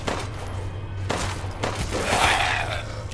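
Rapid gunfire bursts in the video game Resident Evil Village, sharp repeated shots over ambient game noise.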